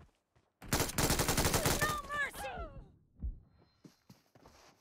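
Rapid automatic gunfire in the PUBG battle royale game, a loud close burst of quick shots lasting over a second, followed by scattered impacts and thuds with brief voice sounds.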